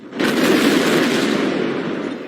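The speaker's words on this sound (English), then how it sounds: "Then came the bang." A loud, sustained explosive roar that hits suddenly and rumbles on without letup, broad and heavy, with no voices.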